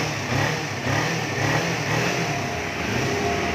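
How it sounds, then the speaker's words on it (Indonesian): A Kawasaki 250 cc motorcycle engine revs steadily with a throaty exhaust, close and loud, pulsing gently throughout with no talking. "Suara mesin masih oke,"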